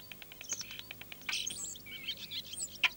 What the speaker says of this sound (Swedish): Det är staren som sjunger sin vårsång.